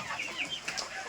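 A desi hen on a farm gives a short burst of soft clucks, faint and close, with a few quick rising notes.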